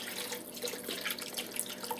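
Water runs into a pot of shrimp and andouille sausage gumbo that already holds chicken stock, making a faint, steady splashing trickle for a couple of seconds, with no voices.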